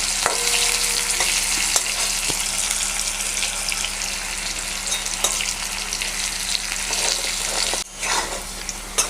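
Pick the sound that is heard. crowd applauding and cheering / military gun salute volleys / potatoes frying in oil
potatoes frying in oil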